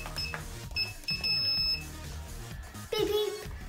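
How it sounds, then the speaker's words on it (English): A few short electronic beeps from a KKmoon RFID magnetic door lock ring out over background noise and low rumbling, then a lower buzzing error tone sounds near the end. "beep beep, and it tells you it's wrong"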